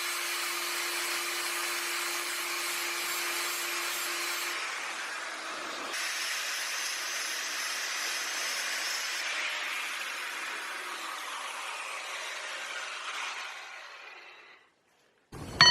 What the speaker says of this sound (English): we're going to lock this in the drill and attack it with an angle grinder with a sanding pad.